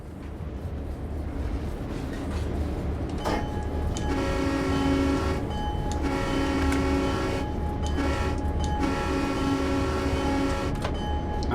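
Nathan M5 horn on a diesel locomotive in Train Sim World 2 on the Clinchfield Railroad, sounding several long chord blasts with short gaps for a crossing, loud and close over a steady rumbling engine.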